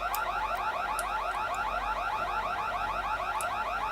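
Fire alarm blaring inside a lab in the video game The Secret World, a loud continuous warbling electronic siren with a steady cycling pitch and a few faint clicks over it.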